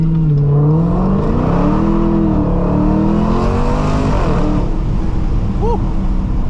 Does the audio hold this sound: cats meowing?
no